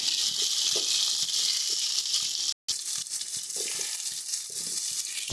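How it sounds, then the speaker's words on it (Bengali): Steady, dense sizzling of pumpkin pieces frying in a pan, loud and close, with occasional stirring scrapes and a brief dropout midway. "কুমড়োগুলোকে বেশ ভালো করে একটু ভেজে নেব আমরা"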